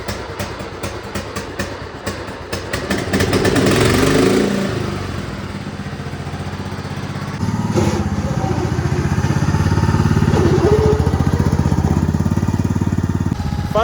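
A modified junk lawn mower engine runs loud and close, revving up in a rising drone, easing off, then surging again into a sustained buzzing roar with no talk over it.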